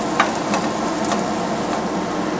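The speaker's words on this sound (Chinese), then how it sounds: "现在改成小火，慢慢把它爆香" Shallots stir-fried in a pan over low heat give off a steady close sizzle, with a few light clinks of stirring throughout.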